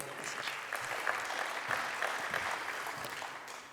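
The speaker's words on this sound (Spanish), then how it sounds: "Un aplauso, por favor." An audience at a conference on social media and cardiovascular disease prevention applauds to welcome a speaker to the stage, a steady dense clatter of many hands filling the whole stretch at moderate volume.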